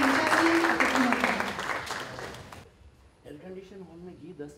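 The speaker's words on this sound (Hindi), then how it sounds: "हम सभी तालियों से स्वागत करेंगे अपने मंचासीन अतिथियों का" An auditorium crowd at an education event applauds to welcome guests onto the stage, dense clapping that fades out after a few seconds, followed by a speaker addressing the hall.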